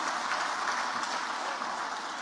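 Crowd at a political speech event applauds in a steady, dense wash of clapping, moderately loud and continuous with no voice on top.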